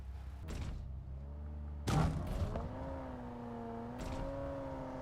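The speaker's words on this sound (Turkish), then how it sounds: "Araba sesi. Vallahi araba sesi." A car engine in PUBG Mobile hums at a steady pitch, broken by a sharp bang near the middle, then the motor keeps droning on.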